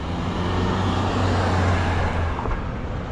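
Road traffic in Shotts, Scotland rolls past as a continuous loud rumble with a low engine drone, one vehicle seeming to swell and fade before the steady roadway noise carries on.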